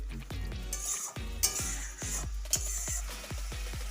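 Spice masala for a village-style chicken curry sizzles and frying in a pan over a gas flame, with repeated scraping stirs and metal clinks keeping a steady rhythm, close and moderately loud.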